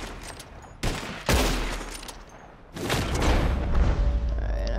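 Gunshots from a hunt for flying birds in the Red Dead Redemption 2 video game: a few loud, booming shots echo out over steady ambient noise, with no talking.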